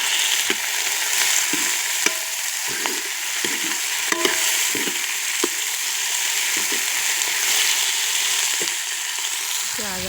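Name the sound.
stirring chopped tomato and green chilies into frying onions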